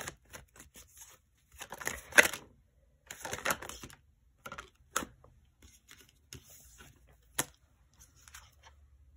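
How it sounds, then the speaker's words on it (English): Tarot cards being pulled and handled, giving scattered crisp flicks, taps and shuffling clusters at close range, with irregular short bursts separated by quiet pauses and no talk. "let's go ahead and pull some more cards."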